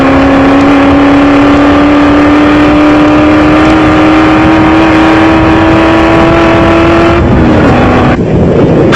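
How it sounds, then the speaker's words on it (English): A Video Sport SVM Land Rover production off-road race car in a 1995 South African off-road race screams at full throttle, its loud engine drone rising steadily in pitch before a sudden gear change and roughness near the end. "Barker and Redden were still pushing the Video Sport SVM Land Rover to the limit."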